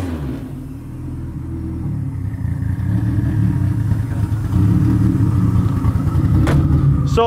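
450-horsepower Mitsubishi Lancer EVO 2 hillclimb car with Tomei 280 cams idling, a steady, lumpy low rumble that grows slightly louder and holds close and even throughout, with a brief high chirp near the end.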